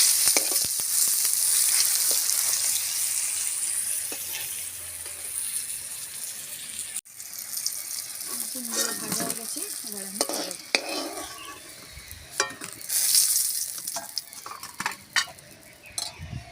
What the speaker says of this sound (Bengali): সিমগুলো আমি ভেজে নেবো